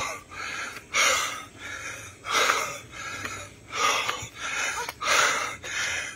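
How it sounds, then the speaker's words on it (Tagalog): Heavy panting from a woman worn out on a steep climb: six or so loud, regular breaths, each a rasping gust, close and alone with no talk. "Andam nyo naman yung hingal ko."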